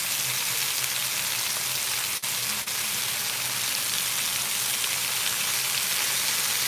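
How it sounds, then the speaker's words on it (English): Meat for birria tacos searing in a hot pan, a steady close sizzle like rain on a surface, continuous throughout with two brief sharp clicks partway through. "We just want a nice sear on it"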